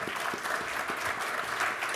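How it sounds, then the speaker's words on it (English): A workshop audience applauds its panelists, a brief, moderately loud patter of many hands clapping with a faint murmur of crowd beneath. "I think a round of applause for them."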